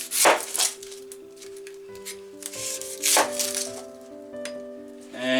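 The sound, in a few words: knife slicing onion on cutting board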